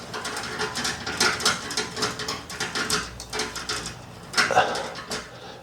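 Repeated short plastic clicks and scrapes as a holder is screwed tight onto a tube light housing, a close irregular series of ratcheting twists with faint talk behind.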